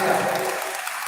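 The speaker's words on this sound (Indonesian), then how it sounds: "Kita sambut dengan tepuk tangan" An audience at a church music and arts concert in South Sulawesi claps to welcome a family, a brief dense burst of applause mixed with voices that fades quickly.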